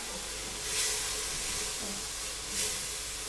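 Vegetables for kapuśniak, a cabbage soup, frying in coconut oil in a pan after a splash of water, giving a soft steady hiss of steam with a couple of brief louder sizzling surges.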